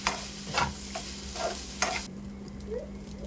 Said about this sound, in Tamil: சிக்கன் பீஸ்லாம் போட்டு நல்லா ஃப்ரை பண்ணிக்கிறேன்.